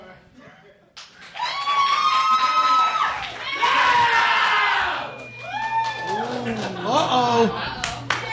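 A live podcast audience bursts into applause and cheering during an on-stage vote, clapping swelling and fading in waves with whoops, while the hosts talk over it.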